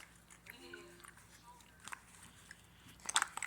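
Gum being chewed close by, with soft, quiet, irregular smacking and clicking that turns into a sharper burst of crunchy snaps near the end.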